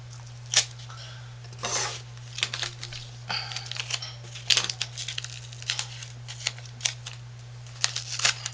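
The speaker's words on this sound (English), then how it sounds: "you can get this masking tape apart when you make mistakes" Masking tape is pulled and torn apart by hand while wrapping soap gifts, a series of close, crisp tearing and crinkling bursts at irregular intervals over a steady low hum.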